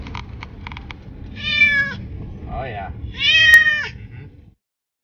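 A house cat meows twice at home, clear and close, each call drawn out, with a brief softer sound between, while someone speaks briefly.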